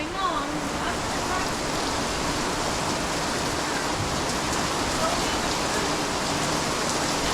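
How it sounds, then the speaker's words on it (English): Heavy rain pours down steadily and loud throughout, a dense unbroken wash of noise with no letup, as if close by outdoors; a voice may be faintly present beneath it. "Why don't you just wait till the rain clears?"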